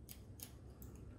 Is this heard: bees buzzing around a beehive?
no